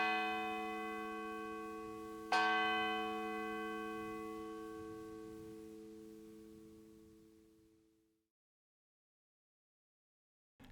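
A single large memorial bell tower in Halifax rings out, a rich resonant bell with a second strike about two seconds in, its sustained hum slowly decaying to silence, heard alone without voices.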